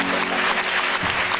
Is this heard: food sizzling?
no